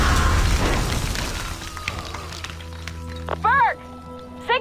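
Bomb explosion in Assassin's Creed, a deep rumbling boom with debris at the start that fades out, followed by game voices and a short electronic warble.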